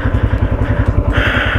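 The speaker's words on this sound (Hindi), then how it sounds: "देखो न्यूट्रल पे बाइक जा रही है रुक के।" A motorcycle rolls in neutral up the magnetic hill in Ladakh, its engine putting out a steady, close, pulsing low idle throughout with a faint rushing hiss on top.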